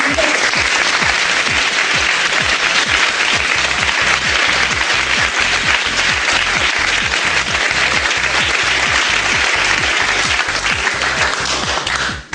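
A theatre audience applauds a performer during a French stage comedy, steady dense clapping sustained loudly throughout and ending abruptly.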